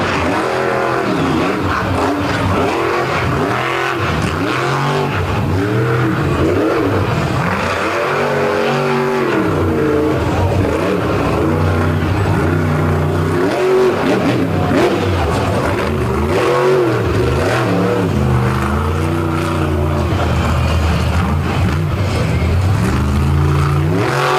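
A loud, deep monster truck engine roars and revs continuously at a beach show, the pitch rising and falling as the throttle is worked, with rough mechanical rumble throughout.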